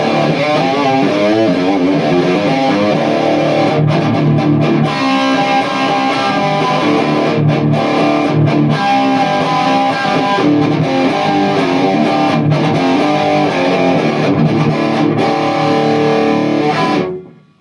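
Heavily distorted electric guitar through a Marshall JCM 2000 TSL tube amplifier with no pedals or effects, thick high-gain tone, chords and riffs played loudly and continuously with brief pauses between phrases, ending abruptly.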